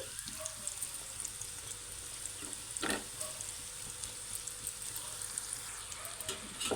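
Mashed boiled potatoes fry with onions in oil in a pan, giving a steady soft sizzle with occasional scraping stirs, close by and fairly quiet, with no talking.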